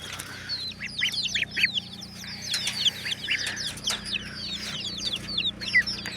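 A broody hen sits over newly hatched chicks and her last duck eggs. Dense, high, continuous peeping from several chicks runs throughout, with soft low clucking underneath, all close by.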